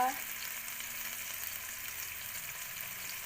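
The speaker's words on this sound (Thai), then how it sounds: "อันดับแรกผัดเบคอนก่อนนะคะ ผัดเบคอนนิดนึง" Bacon frying in a pan for a scrambled-egg breakfast gives a soft, even sizzling hiss that runs steadily throughout. It stays quiet and close, with no voices over it.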